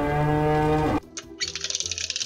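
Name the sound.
cow mooing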